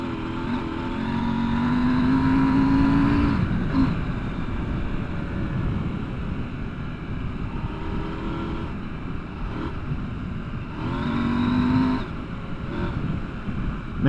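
A 2024 KTM 790 Adventure motorcycle ridden fast: a steady, loud engine drone with rising and falling revs and wind rush throughout, with no talk.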